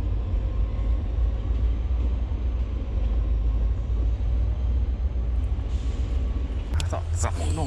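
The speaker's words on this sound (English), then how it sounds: "The train's still following us." A nearby train rumbles past steadily, loud and continuous low-pitched rolling noise through the whole stretch, heard while fishing for chain pickerel, with a few sharp clicks near the end.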